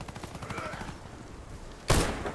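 A burst of gunfire in a Warface ranked multiplayer match: a rapid run of shots, then a single loud, close blast near the end, with no voices.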